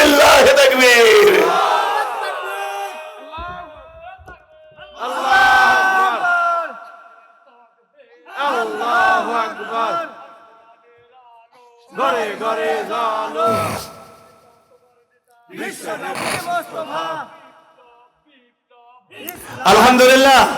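A large crowd at an outdoor Islamic religious gathering in Pabna responds in unison, shouting Allahu Akbar in answer to a takbir call, with loud repeated chant bursts separated by pauses.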